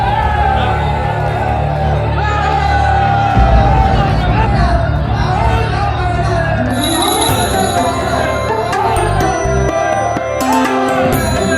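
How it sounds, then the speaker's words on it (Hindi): A dense crowd murmurs and chatters at a busy outdoor gathering, a steady hubbub of many overlapping voices that stays loud throughout, with a few brighter shouts rising near the end. "इतनी भीड़।"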